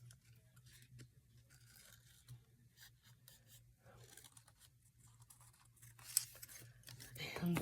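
Scissors cut through a paper embellishment in soft, crisp snips and rasps, faint and close, over a low steady hum, with a louder rustle at the end.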